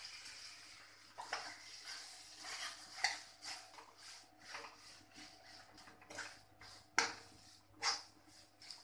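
Boiled potatoes tumble into a cooking pan, giving soft irregular clatters and scrapes of a spoon against metal, fairly faint, with no talking.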